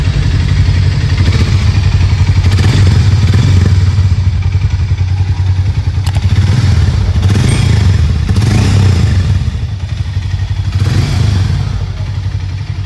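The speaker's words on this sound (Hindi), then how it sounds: "सो अभी इसका एग्जॉस्ट नोट मैं सुना देता हूँ आपको, तो एग्जॉस्ट नोट अभी सुन लेते हैं इसका कैसा रहता है।" A 2024 Hero Mavrick 440 motorcycle engine rumbles steadily at close range, a deep low exhaust note with slight rises in revs, running alone without talk.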